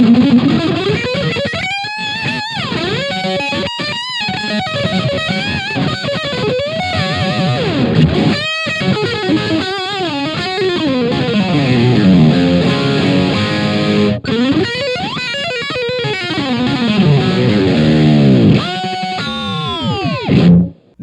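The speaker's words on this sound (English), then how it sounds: "The distortion section has a ton of gain." Electric guitar through the distortion section of a Gokko AXE MX300 multi-effects unit at high gain, loud saturated riffs, bends and sustained notes playing continuously for about twenty seconds before stopping abruptly.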